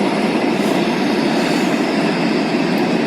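A train roars past on tracks near woods, a loud close continuous rushing rumble with wheel noise that fills the whole stretch without pause.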